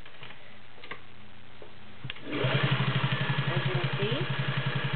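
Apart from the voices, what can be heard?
vintage Singer Touch & Sew 600E sewing machine stitching leather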